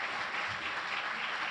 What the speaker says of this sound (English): give yourselves a round of applause for attending our first San Francisco Safe Communities Reentry Council